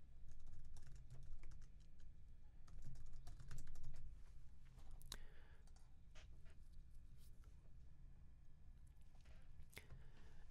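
Typing on a computer keyboard to log in, soft rapid key clicks in irregular bursts with a few sharper taps, heard close but quiet over a low room hum.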